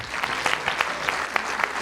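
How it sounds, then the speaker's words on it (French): Audience applause at the 2015 opening of a film festival, a steady dense clapping from a full room that continues for about two seconds, heard alone. "Et il mérite d'être applaudi parce qu'il a fait un travail formidable lui aussi."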